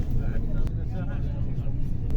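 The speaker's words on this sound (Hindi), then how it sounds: "ये बस टनल से गुजरते हुए 3 मिनट के अंदर मस्जिद हरम तक पहुँचाती है।" Hotel shuttle bus rolling through a bus-only tunnel in Makkah, a steady low engine and road rumble filling the cabin with no break.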